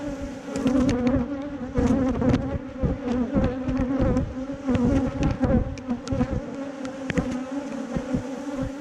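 Honey bees swarm loudly around a newly caught swarm hive being inspected, a dense close buzzing with many individual bees darting past near the ear.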